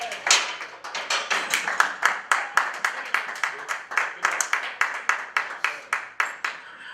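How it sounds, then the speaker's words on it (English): A small group at a powerlifting seminar mock meet claps in a fairly steady rhythm, distinct sharp claps about three per second, close and clear with no talk over them, easing off slightly toward the end. "I'll assume because you're clapping, that was a thumbs up"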